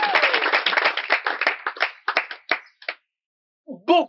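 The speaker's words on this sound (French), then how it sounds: "Applaudissez pour elle." Audience applause for a woman, a burst of clapping that thins into scattered claps and stops, then a brief voice near the end.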